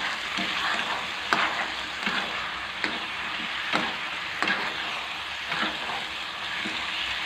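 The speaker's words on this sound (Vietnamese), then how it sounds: "Cho thịt vào mình sẽ trộn đều đi." Pieces of pork frying in a hot pan while being stirred, a steady close sizzle broken by repeated scraping strokes and clacks of the utensil at an uneven rhythm.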